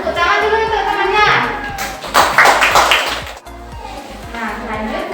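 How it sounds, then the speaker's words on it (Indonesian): A Grade 4 class of children claps for a classmate after a presentation, a short burst of hand claps mixed with lively children's chatter. "Nah, tepuk tangan dulu untuk temannya."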